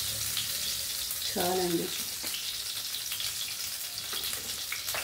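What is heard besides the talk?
oil poured into a hot pan, sizzling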